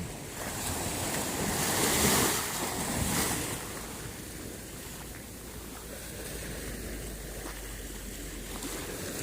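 Waves wash onto a beach at Phla as the tide comes in, a steady broad surf roar with a louder swell early on, mixed with wind buffeting the microphone and no talking.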